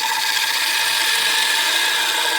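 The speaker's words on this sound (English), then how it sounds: "What I'm doing there is I'm doing a scrape." Woodturning tool scraping the wood of a cedar vase spinning on a lathe, a steady, loud, unbroken hiss-like rasp that holds level from start to finish, with no voices.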